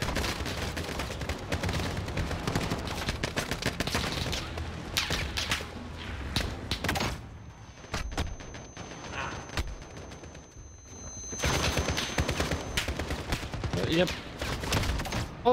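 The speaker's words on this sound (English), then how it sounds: "We're taking heavy fire." Heavy gunfire in a Call of Duty campaign battle, dense overlapping bursts of automatic and single shots, loud and close, with a short lull midway before the shooting resumes.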